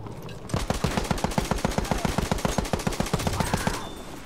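Rapid, steady machine gun fire from a Battlefield 1 open beta match, a long close burst of evenly spaced loud shots lasting several seconds, heard alone without talk.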